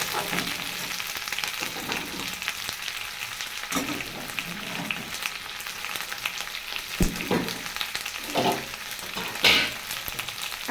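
Onion stalks and garlic stalks fry in hot oil, giving a steady, dense sizzle with occasional louder crackles and spatters, close and continuous with no talking.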